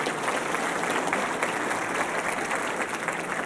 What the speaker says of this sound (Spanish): Demos un aplauso también a estas damas.